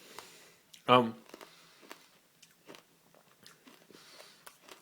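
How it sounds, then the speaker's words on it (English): A single loud, close crunch as a Pan Drops hard candy is bitten, followed by faint chewing while someone talks. "I think it's okay to chew it."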